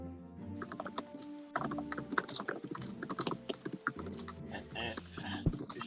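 Loud typing on a computer keyboard during a tabletop role-playing game session, a dense run of clicking keystrokes for several seconds with music or background sound underneath.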